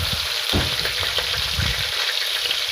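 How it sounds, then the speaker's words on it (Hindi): Chopped onions fry in hot oil over high heat for aloo gosht, a dense steady sizzle with low bubbling and crackle, no talk. "तो अब मैं इसमें ये प्याज डाल देती हूँ।"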